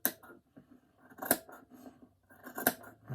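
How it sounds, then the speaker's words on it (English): Scissors cutting fabric to make a mask hood: close, crisp snips in an uneven rhythm, with two sharper closing clicks standing out among softer slicing sounds, heard alone in a quiet room. "And I'm just going to start cutting"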